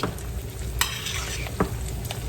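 An egg fries in a pan of hot fat and is basted, while a breakfast potato hash is being made. A close, steady sizzle carries occasional sharper spatters and spoon scrapes.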